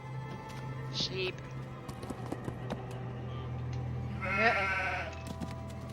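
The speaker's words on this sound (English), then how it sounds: "sheep." Sheep in the Nancy Drew game The Haunting of Castle Malloy give a couple of short bleats, one faint early and a louder one later, over a quiet low hum with scattered soft clicks.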